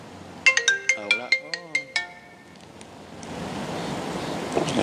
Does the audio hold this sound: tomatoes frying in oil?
no